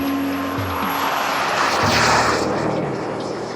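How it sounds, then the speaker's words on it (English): Engine of a powerful radio-controlled model plane at a flying field, a steady loud drone with a rising, shifting pitch as it passes overhead, over wind noise. "Some of these RC planes are super-powered."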